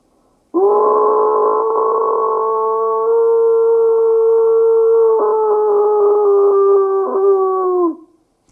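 A man imitates a wolf howl with his voice, one long, loud, sustained tonal call that holds steady for several seconds before breaking and fading out.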